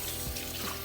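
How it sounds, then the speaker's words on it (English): Tap water runs into a kitchen sink over Brussels sprouts in a bowl, a steady close splashing flow for under a second. "So I rinse the Brussels sprouts"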